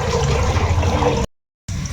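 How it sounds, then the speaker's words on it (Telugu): Water poured into a pan while cooking vegetable egg dum biryani gives a steady, close rushing splash for over a second, then cuts off abruptly and resumes briefly. "ఇప్పుడు వాటర్ వేసుకుందాం"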